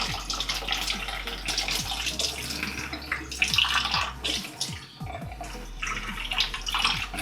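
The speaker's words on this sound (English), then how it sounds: "Now all I do is just tilt it away from myself and pour water in it" Water poured into a portable espresso maker: a continuous splashing, trickling pour with a low hum beneath, close and moderately loud, briefly dipping in the middle before the flow resumes.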